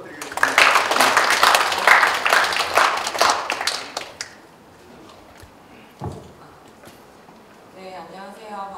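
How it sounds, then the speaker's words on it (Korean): Clapping from the audience at an academic conference on therapeutic horseback riding, dense and loud for about four seconds before it fades into quieter room noise with a brief sound and faint talk at the end. "큰 박수 부탁드리겠습니다."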